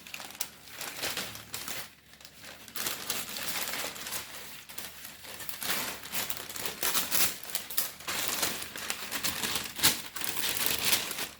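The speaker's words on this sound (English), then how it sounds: "I'm gonna add my paper, my baking paper to it" Two layers of baking paper are pressed into a baking pan for a Jamaican vegan Christmas cake, giving close, busy crinkling and crackling that keeps going throughout with no talking.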